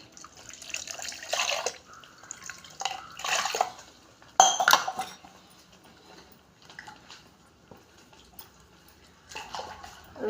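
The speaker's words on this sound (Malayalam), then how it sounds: "നമ്മുടെ ഈ ജാറ് കഴുകിയ വെള്ളം ഒഴിച്ചു കൊടുത്താൽ മതി." Water left from rinsing a jar is poured into a curry pot in several short splashing bursts with quieter gaps, close and fairly soft, with no talking.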